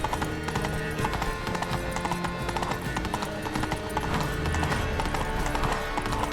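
Horse hooves clip-clopping in The Witcher 3: Blood and Wine, a quick continuous trot under a busy game soundscape of music and ambience.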